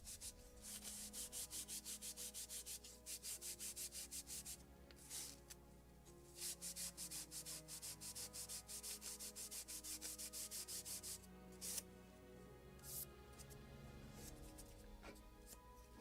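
Rapid rhythmic rubbing as the wooden deck of a Model Shipways kit of the 1776 gunboat Philadelphia is polished by hand, quick bursts of strokes broken by brief pauses, close and fairly quiet.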